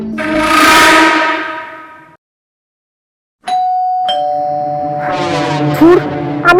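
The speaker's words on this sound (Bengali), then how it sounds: "আমি ড্রয়িং রুমে বসলেই কলিং বেল ঠেলা।" A two-tone electronic doorbell chimes loudly indoors, rings out and decays, then after a short pause a second, longer ding-dong chime sounds with ringing tones.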